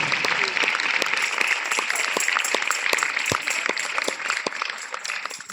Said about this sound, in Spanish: Un aplauso a Dios por ellos y por ellas.